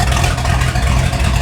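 Mercruiser 502 EFI V8 in a 1995 Fountain 24CS boat idling, a loud, steady low rumble with a slightly uneven throb and no voices.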